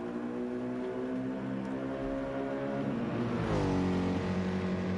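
The 51 Mercedes-AMG race car at the Nürburgring 24 Hours runs hard on its tyres, a steady, moderately distant engine drone with a tonal whine that shifts pitch as it rises and falls, with no voices.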